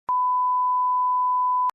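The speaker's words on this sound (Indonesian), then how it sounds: "Itu harus di beep ya, harus di beep." A steady pure-tone censor beep bleeps out a word in an Indonesian podcast, one continuous loud tone starting and stopping abruptly with nothing else heard.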